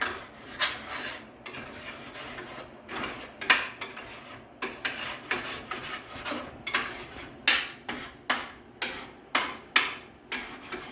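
Egg being scrambled in a pan for fried rice, a utensil scraping and rasping against the pan in quick repeated strokes, near and fairly quiet, settling into a regular rhythm toward the end, with no talking.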